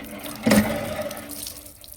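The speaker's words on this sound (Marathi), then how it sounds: "हे पहा हे हापशी आहे इथून मी पाणी भरत असतो" Water gushes from a village hand pump into a vessel, a short splashing pour that surges briefly and then settles into a steadier trickle, close by and with no talk.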